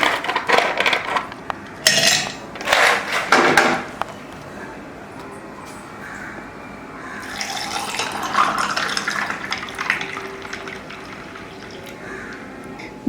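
Beetroot juice is transferred into a glass with clinks of glassware and utensils and a brief watery splash early on, followed by softer handling noise under quiet background sound.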